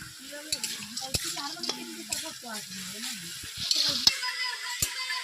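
Steady sizzling of bottle gourd stir-frying in a pan, with scraping and stirring clinks throughout, close up and moderately loud.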